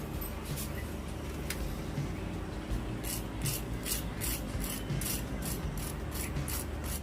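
A crispy fried chicken cutlet with a breadcrumb coating crunches close by in a series of sharp, regularly spaced crackling bursts over a steady low background noise.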